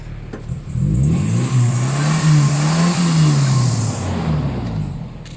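A Hero short-wheelbase four-stroke motorcycle engine is revved up and held, then eased back down. The rev sweep is loud and close, with a smooth rise and fall and no talking.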